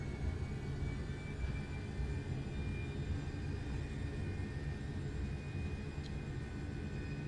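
In X-Plane 12, an MD-11 jet rolls down the runway at Dallas-Fort Worth, a faint, steady engine roar and rumble holding throughout with no talking.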